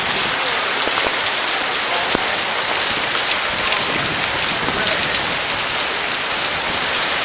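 Heavy rain pours steadily outdoors around a 1969 Pontiac Grand Prix, a loud, dense hiss of drops hitting surfaces with scattered sharper splatters, continuous and close, no voices heard.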